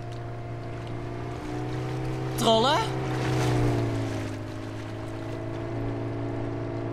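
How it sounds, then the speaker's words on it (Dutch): A large boat's engine drones low and steady through fog in the 2005 cartoon Elias the Little Rescue Boat, with a warbling horn-like tone partway through and a voice calling out over it. "Dat lijkt wel een grote boot."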